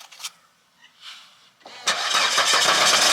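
A few faint clicks and a brief crank, then the diesel engine of a Volvo XC90 D5 catches after a fuel filter replacement and settles into a loud, steady rumble.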